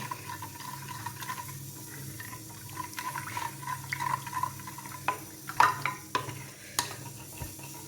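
Second coconut milk poured into a pot of mango fish curry, a soft liquid trickle and gentle stirring over a low simmer, with a few sharp scrapes and taps near the end.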